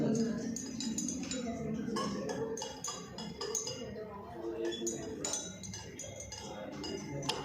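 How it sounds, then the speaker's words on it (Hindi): A glass rod clinks lightly and repeatedly against a test tube while stirring an acid mixture in a chemistry practical, with small tinkling taps under a voice talking nearby. "अब इसको ग्लास रोड से थोड़ा मिक्स कर लीजिए।"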